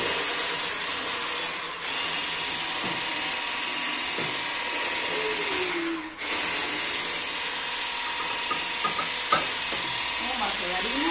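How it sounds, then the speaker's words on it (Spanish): Orange sponge cake batter being beaten in a bowl, a steady whirring mechanical whisk sound with clicking, continuous and close throughout. "sigue batiendo"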